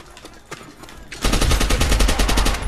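Pistol gunfire in a Call of Duty game: a few sparse shots first, then a loud, rapid, continuous burst of gunfire that carries on to the end.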